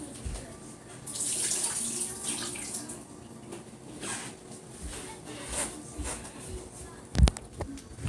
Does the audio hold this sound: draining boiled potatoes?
yes